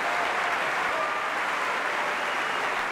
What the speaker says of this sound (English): At the final curtain, the audience jumps to its feet. Even the orchestra applauds.